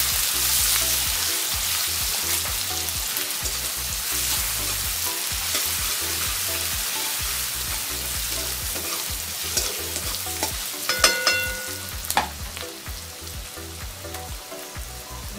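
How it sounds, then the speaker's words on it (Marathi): Onion frying and sizzling in a hot pan while being stirred, a steady loud crackle with scraping stir sounds and a few sharper clinks near the end, no talking. "कांदा चांगला मऊ द्यायचा आहे,"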